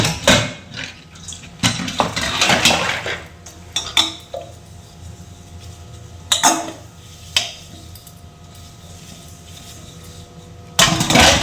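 Water splashing and running as a floor-mopping cloth is soaked in a home kitchen sink, with clattering dishes and intermittent bursts of tap water close by, no talking.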